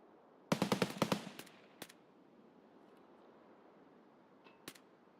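Escape from Tarkov gunfire: a quick volley of about six sharp shots in rapid succession, then a single shot shortly after, a long quiet pause, and one more distant-sounding shot near the end.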